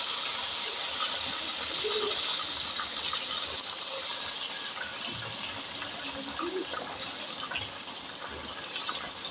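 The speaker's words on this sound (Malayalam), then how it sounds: "ഇനി ഓയിൽ ചൂടാകുമ്പം കട്ട് ചെയ്ത് വെച്ച വെണ്ടയ്ക്ക നീളത്തിനാണ് കേട്ടോ ഞാൻ കട്ട് ചെയ്തത്, ചേർത്ത് കൊടുത്ത് നന്നായിട്ട് വറുത്തെടുക്കാവേ." Sliced okra, cut lengthwise, frying in hot oil in a pan, giving a steady, loud hiss and sizzle that runs without a break, with no talking.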